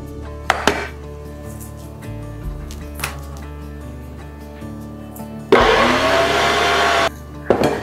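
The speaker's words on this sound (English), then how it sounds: "Now we're going to grind all the non-fat meat." An electric meat grinder grinds lean, non-fat meat for homemade Polish sausage, a steady motor hum punctuated by knocks and clinks, then a louder, harsher grinding burst near the end.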